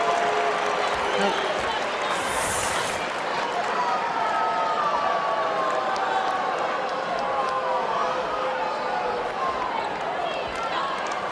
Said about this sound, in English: I think that was the Utes that were booing